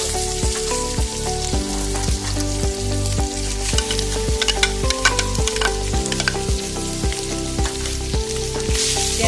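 Shredded cabbage hitting hot oil in a pan and being stirred while cooking Indian-style pasta, a steady loud sizzle broken by regular rhythmic scrapes of the spoon, with no talking.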